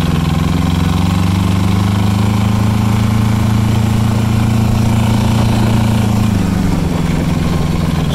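Arctic Cat 700 Diesel engine running steadily at a low, even idle, a loud continuous drone with no talk over it.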